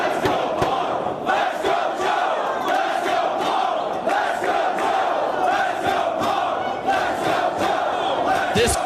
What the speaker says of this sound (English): This 50-50 crowd once again voicing their opinion with that "Let's go Punk, let's go Joe" chant